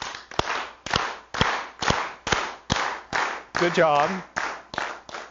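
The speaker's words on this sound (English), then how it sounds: "I'd like to see if we can all clap in unison." An audience in a lecture hall claps together in unison, about a dozen sharp, evenly spaced bursts at a steady rhythm, with a short spoken remark over one of them.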